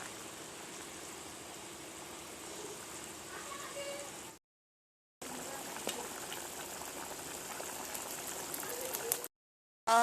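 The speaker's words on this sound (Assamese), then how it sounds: "উতলি আছে অলপ পিছত হ'বই আৰু" Fish curry with tomato bubbles and simmers in a pot, a steady hiss and gurgle that runs close and continuous, broken by two brief gaps of silence.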